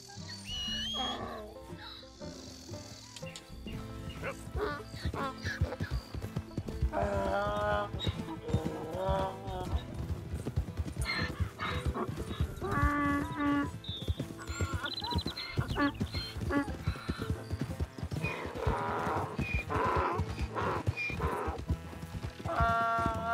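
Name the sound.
donkey hooves clip-clopping in Red Dead Redemption 2 video game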